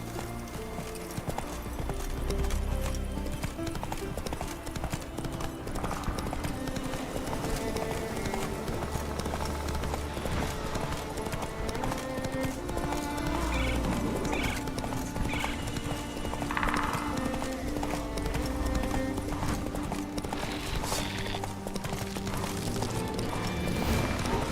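Roach, a horse in The Witcher 3, gallops with steady, loud clip-clop hoofbeats throughout, broken by several whinnies, against continuous game music and ambience.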